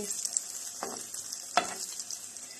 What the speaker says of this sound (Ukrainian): Накладаємо на пательню наші оладки.